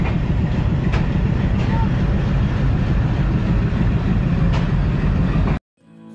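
A passenger train runs from Katra toward Amritsar with a steady, loud rumble heard from inside, faint clicks over the rails, then cutting off abruptly near the end.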